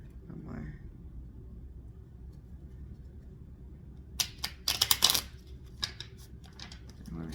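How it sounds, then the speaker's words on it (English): A quiet room hum, then a quick run of crisp papery riffling and snapping as tarot cards are shuffled, followed by a few light taps. "I want to shuffle it."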